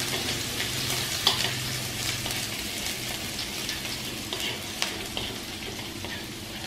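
Shallots fry in about a spoonful of hot cooking oil in a pan, giving a close, steady sizzle with small pops and crackles throughout and no talking.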